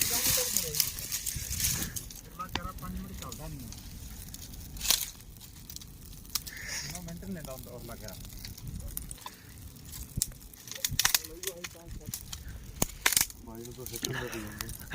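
A campfire burns at night beside a canal, giving soft, scattered crackles and pops at low volume under people talking.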